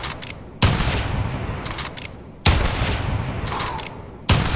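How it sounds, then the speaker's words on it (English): Three loud, sharp shots from a 7mm-08 Scout bolt action rifle in theHunter Classic hunting game, spaced about two seconds apart, each with a booming crack and a long fading echo, no talking. "Let's fire a few more shots and then hopefully we can catch the reload animation in third person."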